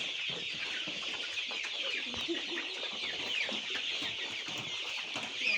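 Hundreds of small broiler chickens packed in a village poultry shed keep up an unbroken wash of clucks and cheeps, even in level, with occasional sharper calls standing out.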